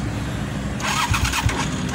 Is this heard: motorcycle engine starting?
yes